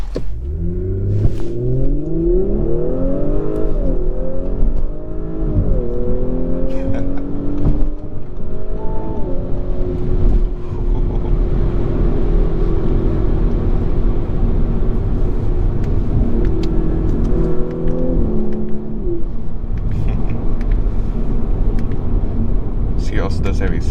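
A 2021 Audi S4 Premium Plus in dynamic sport mode accelerates hard, its engine note climbing through rising harmonics with shifts and a steady road rumble, loud and continuous throughout while a voice talks over it.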